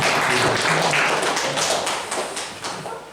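A church congregation at a children's Sunday service claps along steadily, a broad and continuous patter of many hands filling the room, fading slightly toward the end.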